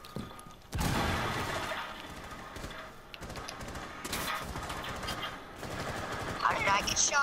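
Bursts of automatic gunfire and sharp shots from a first-person shooter match, repeated in quick clusters across the clip, fairly loud, mixed with faint game effects and occasional voices.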